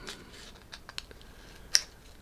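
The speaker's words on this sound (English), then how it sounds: "Cut the film," Scissors snip photographic film in daylight during loading onto a Paterson developing reel, a few quiet, sharp cuts close by with one louder snap near the end.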